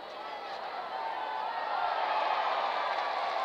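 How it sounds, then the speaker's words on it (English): Baseball stadium crowd in a Columbus versus Iowa game applauding a fan's great catch of a ricochet, a broad, steady wash of clapping and cheering that swells gradually and stays distant and sustained. "Loudest applause we've heard today"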